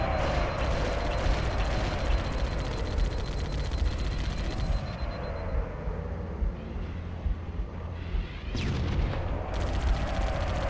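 Continuous gunfire in the Halo: CE game, dense crackling bursts running almost throughout, dipping briefly near the end before firing resumes, with no clear talk over it.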